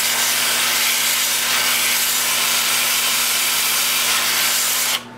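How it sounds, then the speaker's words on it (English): Sandpaper rubbing against a spinning natural holly crotch piece on a wood lathe, a continuous loud close hiss over a steady motor hum, cutting off abruptly at the end. "Then I'll sand here."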